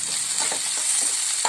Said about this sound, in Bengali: এবার সবকে ভালো করে আমরা ফ্রাই করব